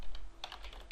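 Quick, light keystrokes on a computer keyboard while entering a line of C++ code, several soft clicks in an uneven rhythm, close and quiet, with no voice.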